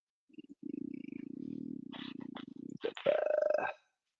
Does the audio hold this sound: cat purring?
yes